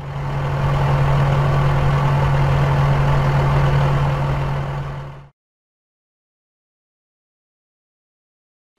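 A bulldozer engine idles steadily with a loud, deep drone and a constant low hum for about five seconds, then stops dead into silence.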